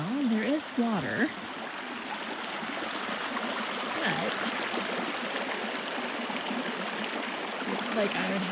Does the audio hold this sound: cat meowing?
no